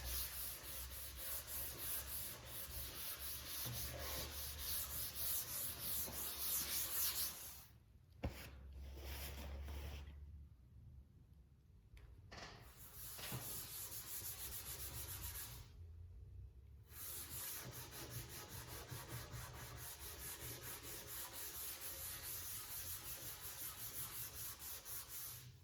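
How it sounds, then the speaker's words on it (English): Scotch-Brite pad buffing Rubio Monocoat oil finish into a live edge wood bar top: steady, close hand-scrubbing rasp that runs continuously, broken by a couple of brief pauses, with no talk. "do this work with a little random orbit buffer, but this Scotch-Brite pad will work fine for a project this size"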